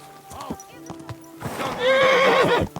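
In Kingdom Come Deliverance II, a horse snorts and stamps with a few hoof clops, then lets out a long, loud, shrill neigh up close, while a voice speaks briefly at the start.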